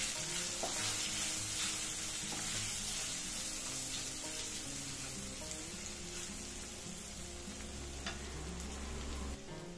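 Potatoes with grated ginger frying and being stirred in a pan for a quick breakfast, making a continuous close sizzle with occasional scraping clicks and no talking.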